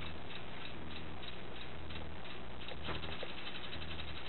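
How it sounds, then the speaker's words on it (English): Rapid, steady ticking of a bicycle wheel hub freewheel spinning, a fast, even clicking rhythm heard up close at low level with no talk over it. "That's the exact sound you want one of these hubs to make."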